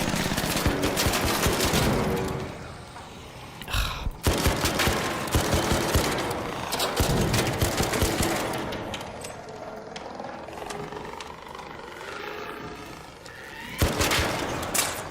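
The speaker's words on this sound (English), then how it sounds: "I'm gonna shoot this guy with lots of grenades." Rapid video game gunfire, with grenades aimed at an enemy: dense bursts of automatic shots and booms crowd the opening seconds, ease into scattered fire and a lull, then a loud burst returns near the end.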